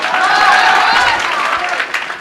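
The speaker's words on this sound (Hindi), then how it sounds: "संतोष के नाम से ताली दो जो।" Classroom students clap together on a teacher's cue, a brisk, dense round of applause that stays loud and even before tapering slightly at the end, with a voice faintly mixed in.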